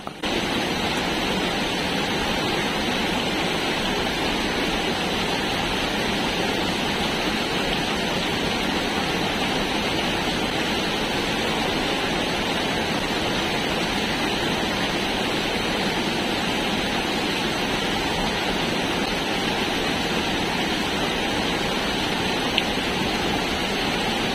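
Rushing water of the Mbulayan waterfall in a forest near Gunung Meriah village, a steady dense roar holding unchanged and close throughout with no voices.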